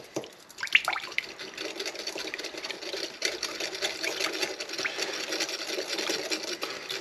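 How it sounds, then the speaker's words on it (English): Gochujang sauce whisked into a thick paste in a bowl, rapid close clicking and wet scraping strokes in a steady fast rhythm after a quieter start, with no talk. "just going to whisk this up into some sort of paste without spilling it over the edge"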